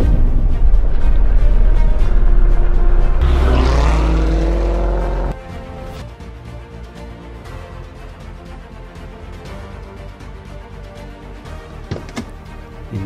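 A Chrysler 300 car roars loudly for about five seconds, then drops abruptly to a quieter, uneven rumbling drive with scattered clicks and knocks.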